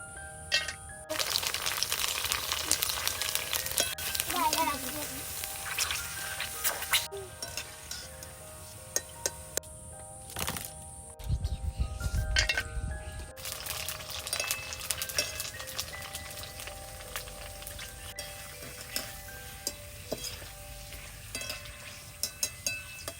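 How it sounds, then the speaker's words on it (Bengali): Fuchka (panipuri shells) frying in hot oil for a Bengali panipuri dish, a steady close sizzle with bursts of crackling and stirring clinks, running through the clip with short quieter gaps. "এবার একে একে সব ফুচকাগুলো ভেজে নেব।"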